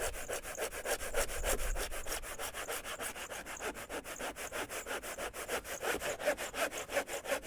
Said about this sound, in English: you've got to be careful when you cut through right to the end, because it just snaps off